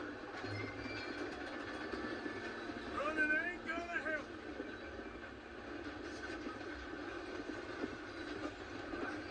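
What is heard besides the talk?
train running in a video game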